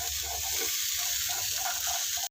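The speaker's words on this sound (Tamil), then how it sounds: "அது வரைக்கும் நல்லா லைட்டாக வறுத்துக்கோங்க." Coconut dry-roasted in a pan over a slow flame gives a steady, even hiss with faint crackling and no talk, cutting off abruptly at the end.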